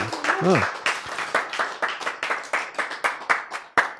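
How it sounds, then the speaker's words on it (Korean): During a Bible lecture, a small audience breaks into clapping, distinct individual claps landing in a quick, fairly regular rhythm, with a brief voice at the very start. "박수!"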